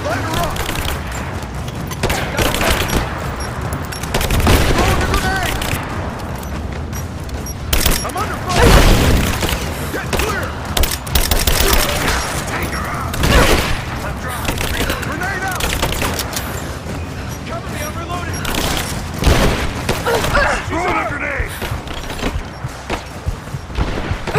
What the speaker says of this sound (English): combat can feel a little bit frustrating at times, especially when the bad guys are spamming an unlimited supply of grenades in your direction